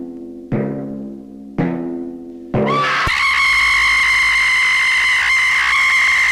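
A woman in an old splatter horror film lets out two short gasping cries, then a long, loud, sustained shrill scream that holds steady to the end.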